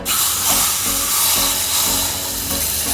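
Hot oil hisses and sizzles steadily around marinated chicken in a pan while Afghani chicken is cooked, a loud, unbroken broadband sizzle with no talk.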